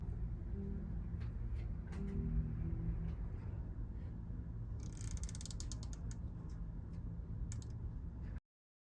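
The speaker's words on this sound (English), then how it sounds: "now I'll loosen my tension knob at half of a turn at a time until I get it perfectly set" The tension knob on a Juki longarm quilting machine is loosened, giving faint, scattered ratchet clicks over a low background hum, with a denser burst of quick ticks partway through.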